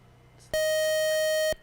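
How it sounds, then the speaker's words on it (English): A single loud electronic quiz buzzer with a steady tone, lasting about a second, cutting in abruptly over a quiet background and stopping sharply. "The buzzer got you there."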